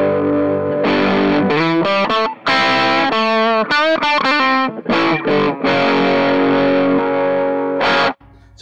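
Electric guitar played through an Iron Man Rangemaster treble booster pedal with the top toggle switched up, a thick distorted tone in a series of picked notes and chords with brief gaps, loud and close.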